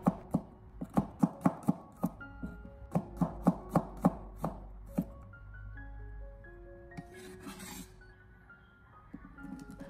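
A knife chops garlic into thin slices on a cutting board, with a quick, steady series of crisp, close knocks that stop halfway through, leaving quiet kitchen room tone.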